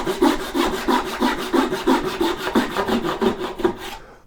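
A hand saw cuts dovetails in wood: a quick, steady series of about a dozen rasping push strokes, close and loud, with no talking.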